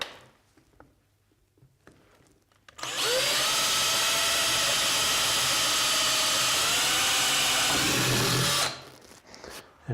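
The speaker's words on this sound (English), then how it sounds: "I'm using wood drills here because this is cardboard, so wood drills are fine." A power drill with an 8 mm wood bit whirs loudly and steadily for several seconds boring through cardboard, its pitch shifting slightly, with quiet handling noises before and after.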